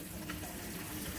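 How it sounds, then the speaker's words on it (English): Water drains steadily from a sink after the plug is pulled, a soft continuous gurgling rush, close and unbroken, with no speech. "We'll go ahead and pull that plug and let the water drain."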